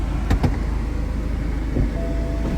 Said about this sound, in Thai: คุณมี convertible คุณต้องเปิดปิดหลังคาบ้างนะครับ